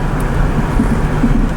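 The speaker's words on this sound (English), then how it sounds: "There's a car coming back" A car drives along a road down toward a ferry crossing on the Kentucky River, a loud, steady low rumble of engine and tires heard from close inside or beside the vehicle.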